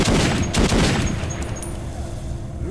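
A machine gun in Metro 2033 fires a loud burst of close shots at the start, then trails off into fainter scattered fire and rumbling echoes.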